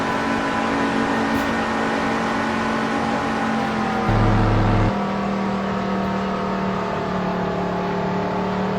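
A race car engine drones loud and steady throughout an F1 racing game lap at the Qatar track, its pitch holding high with a brief deeper gear shift midway.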